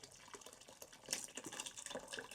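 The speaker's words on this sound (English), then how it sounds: "Pop our hot water in there" Hot water is poured into a container in a kitchen for a citric acid rust remedy, making a brief, faint, splashy trickle and gurgle that lasts about two seconds, with no voices.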